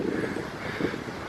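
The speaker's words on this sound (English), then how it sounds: "It's terribly windy." Strong wind gusting outdoors on Santorini at sunrise, a steady broadband roar with buffeting against the microphone and swelling gusts throughout, no voices.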